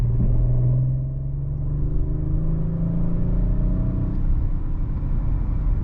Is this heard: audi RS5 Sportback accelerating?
yes